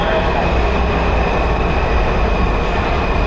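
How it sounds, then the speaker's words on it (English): A Washington D.C. metro train pulls into an underground station with a loud, continuous rumbling roar and faint wheel whine, filling the space close by. "There's a train coming in, but there's 4 different lines here."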